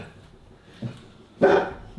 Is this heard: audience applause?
no